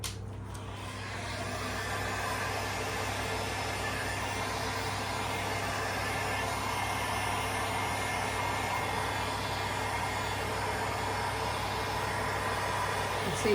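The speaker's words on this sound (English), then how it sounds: "I'm going to come over with the heat gun." A heat gun blows hot air in a steady, even rushing whoosh that swells slightly as it starts, then stays constant and fairly close for the whole stretch with no one talking.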